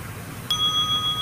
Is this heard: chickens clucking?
no